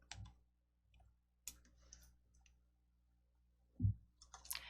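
A single sharp mouse click sounds while selecting a school background in the Entry block-coding program, with a few faint ticks and a louder click near the end in a quiet room.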